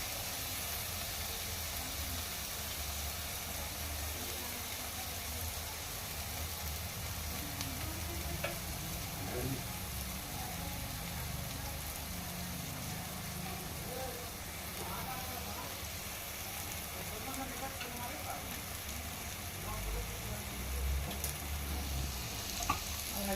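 Curry leaves sizzle steadily in hot oil in a pan for a mango fish curry, a continuous close crackling hiss with occasional stirring, while someone talks over it.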